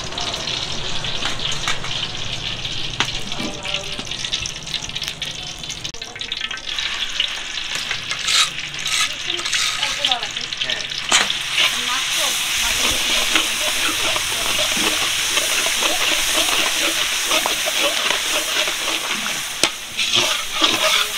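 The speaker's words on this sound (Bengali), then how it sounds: "আগে থেকেই বেটে রাখা মশলাগুলো তেলের ভিতর দিয়ে ভালো করে কষিয়ে নেওয়া হচ্ছে" Loud, continuous sizzle of ground spice paste frying in hot oil in a large wok, with a spatula scraping and stirring against the pan throughout.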